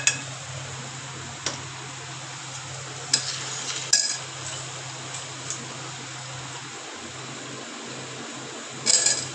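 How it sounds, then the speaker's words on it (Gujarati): Ginger garlic paste frying with onions in a pan, a soft low sizzle underneath with sharp clicks and scrapes of a utensil against the pan at irregular moments. "ચાલો, હવે ડુંગળી થઈ ગઈ છે તો એમાં આપણે આદુ લસણની પેસ્ટ નાખી દઈએ."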